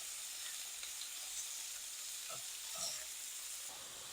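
Fajita meat hisses in a smoking-hot pan, a loud, steady sizzle broken by a few soft knocks as tongs pull the strips apart; nobody speaks.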